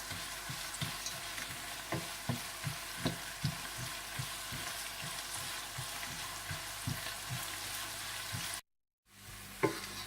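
Whole red chillies, green and black cardamom, cinnamon, cloves, black peppercorns and cumin crackle in hot oil, a soft sizzle marked by regular scraping stirs, then a brief silence and one final scrape.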